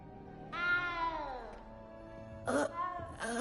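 A cat in the video game Hogwarts Legacy gives a long, drawn-out meow that slides downward, then two shorter, brighter meows follow after a pause, close and clear.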